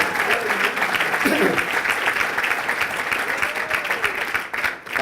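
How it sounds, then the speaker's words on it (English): A mayoral state of the city address audience applauds for the mayor with loud, dense, continuous clapping filling the hall, a single spoken word briefly heard over it. "I think it's time for another clap, and this time for Mayor Elizabeth Tisdale"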